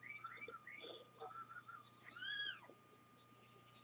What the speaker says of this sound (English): All he knows is he hears these little meows.